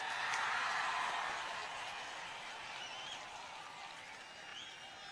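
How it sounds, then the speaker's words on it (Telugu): An audience at a political gathering claps in a sustained, dense burst of applause that is loudest at the start and then eases slightly, heard from a distance with a faint crowd murmur. "చప్పట్లు కొట్టండి అందరూ"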